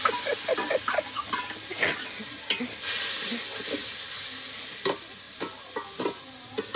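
Whole spices crackle and sizzle in hot oil as a tempering for dal fry, with sharp pops and spits scattered over a steady frying hiss that swells loud midway, close and with no talk.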